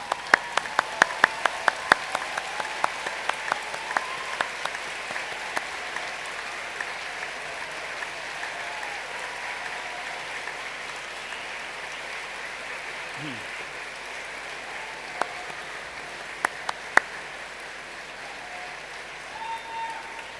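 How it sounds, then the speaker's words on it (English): Graduates of a health and social sciences faculty applaud at a 2015 graduation ceremony, a steady wash of clapping from a large hall, strongest in the first few seconds and then settling into an even, moderately distant patter. "join me in showing your thanks with a huge round of applause"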